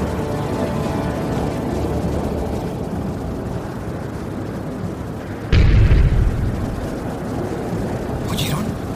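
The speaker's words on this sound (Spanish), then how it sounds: "Por lo que sé, fue un cañonazo." A single deep boom bursts out partway through, sharp and heavy, over steady stormy rumble and background noise.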